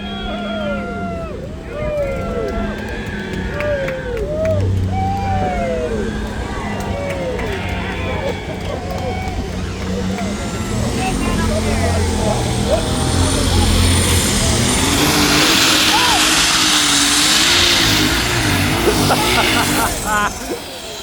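The Gallant tractor from Ohio roars through a tractor pull run, its engine building into a loud, rough, sustained drone. An announcer talks over it and crowd noise runs beneath.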